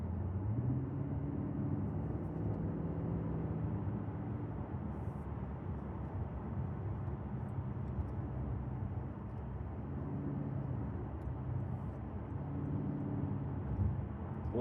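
A V8 car cruises down the highway, heard from inside as a steady, fairly quiet low drone with constant road and wind noise and slight swells in engine tone.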